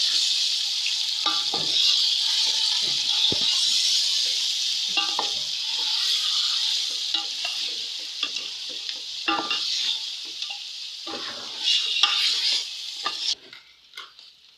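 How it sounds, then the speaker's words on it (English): Marinated mutton frying in a pot for pilau, a steady loud sizzle carrying through while a spoon stirs and scrapes in irregular strokes, with the sizzle dropping away near the end. "And then you're going to add the marinated meat. Just keep mixing it."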